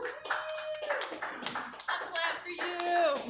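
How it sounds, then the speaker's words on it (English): A comedy club crowd claps for the hosts of a live show, scattered applause mixed with loud whoops and cheering voices, energetic and close. "please give a warm round of applause for your host of Comedy Snacks, JR and Nina Wilder"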